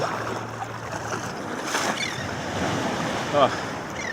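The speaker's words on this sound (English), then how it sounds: "There's a big wave." A large ocean wave surges during an open-water swim off a beach, a breaking whoosh of surf rising under wind noise near the microphone, with a brief splash peak toward the end.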